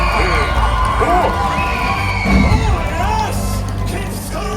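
A large audience at a Disney villains stage show at Walt Disney World's Hollywood Studios theme park screams, whoops and cheers loudly, with children's shrieks rising throughout and a performer's amplified voice carrying over the crowd.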